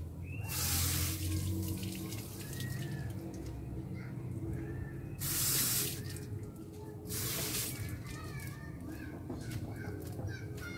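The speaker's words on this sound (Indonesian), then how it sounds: "kita cuci dulu" Grapes of the Ninel variety being washed under a running tap outdoors in Wonosobo, a steady splash of water with bursts of louder spray, birds faintly chirping in the background.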